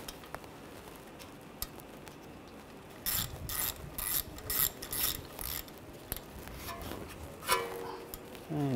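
A ratchet tightens the wheel speed sensor bolt on the front hub of a 2006-2010 BMW 550i. Several short bursts of rapid clicking come from close by in a quiet garage, with no talking.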